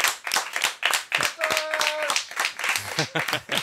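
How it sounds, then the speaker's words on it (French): A studio audience bursts into applause for Madame Katty's return, a steady run of claps with a voice talking over it, close and fairly loud throughout. "on va applaudir le retour de Madame Katty"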